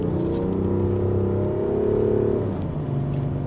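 A BMW X6 M50d diesel engine hums low and steady from inside the cabin while the SUV drives on a rainy road, a smooth continuous drone that rises slightly and then eases off.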